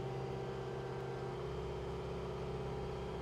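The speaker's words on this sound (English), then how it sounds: "So I'll turn the revs up a little bit." A Kubota SVL75-3 compact track loader engine drones steadily with a constant low hum and a faint rise in pitch as it is revved, close by and without talk.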